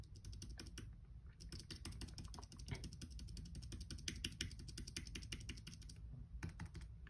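Rapid keystrokes clatter on a computer keyboard as text is typed in, a dense, irregular run of close clicks with brief pauses and no talking.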